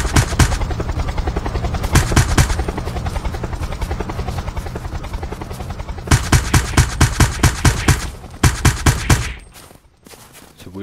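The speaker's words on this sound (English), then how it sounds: "It's a helicopter!" A helicopter in the video game Unturned thumps with steady, loud rotor beats throughout, the pulsing speeding up and growing sharper toward the end before fading into quieter hiss, with no talk.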